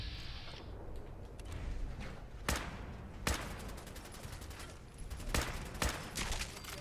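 Gunfire in the Fallout 4 video game, with a mushy background fusillade broken by several sharp, loud single shots at irregular intervals while the companion MacReady fights a Mirelurk.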